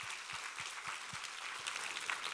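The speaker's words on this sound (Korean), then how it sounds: "우리 하나님께 감사와 영광의 박수를 올려드리겠습니다." Congregation applauding during a church worship service, a steady wash of many hands clapping at moderate distance, continuous and fairly even throughout with no talk over it.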